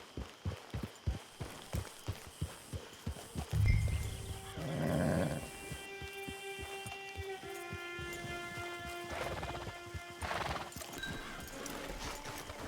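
In the video game Red Dead Redemption 2, a horse's hooves clop steadily and evenly, then the horse snorts and whinnies. The game's music and ambience carry on underneath.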